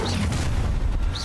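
A booming blast from the Confringo spell in Hogwarts Legacy, a heavy, loud, close detonation rumbling through the whole short moment with layered low impacts.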